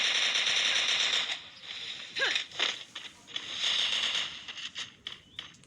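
Gunfire in the mobile battle game Free Fire: bursts of rapid shots come in clusters between quieter gaps, with bright crackling reports and a voice talking partway through.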